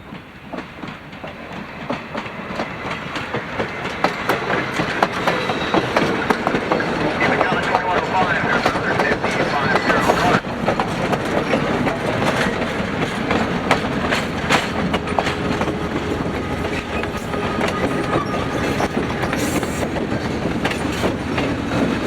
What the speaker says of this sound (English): The train would come back about 15 minutes later with the caboose leading again.